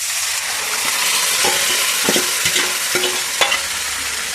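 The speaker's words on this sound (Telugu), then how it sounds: "పోపు అయిపోయిందండి, వేస్తున్నారు" A hot tempering of spices is poured into a red chilli and tomato chutney and stirred, producing a loud, close sizzle broken by several sharp scrapes and clinks of a spoon against the pan.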